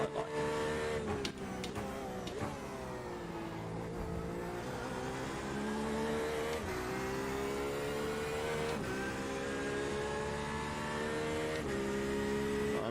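Porsche RSR race car in iRacing practising at Daytona, its engine droning loud and steady with rising and falling revs through gear changes, alone without voices.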